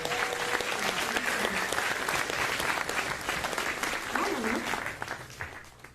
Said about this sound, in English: So can I get a round of applause for our pack?